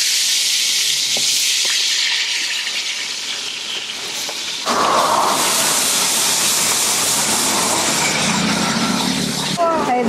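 Onion, tomato and green chilli frying in about 150 ml of oil for a village-style chicken dish, giving a steady loud sizzle and hiss that jumps louder partway through as more goes into the pan, with a voice talking over it.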